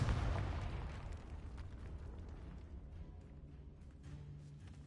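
Confringo blasting spell explosion in Hogwarts Legacy, a loud boom at the start decaying into a long rumbling tail with scattered crackles, heard alone without talk.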